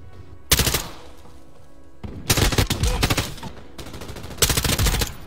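Automatic weapon fire in Call of Duty Modern Warfare 2 multiplayer, with loud rapid bursts of shots in three separate volleys and quieter game ambience between them.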